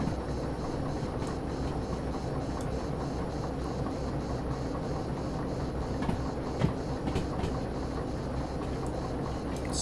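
A train in the video game Derail Valley rolls steadily along the rails with a constant low rumble and faint intermittent clicks, fairly quiet and unbroken.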